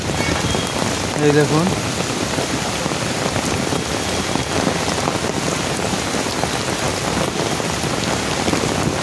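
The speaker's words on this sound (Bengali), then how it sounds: "প্রচুর বৃষ্টি পড়ছে" Heavy rain pours down steadily in a garden park in Mumbai, a loud, dense hiss of drops hitting surfaces throughout, with a short spoken phrase briefly heard over it.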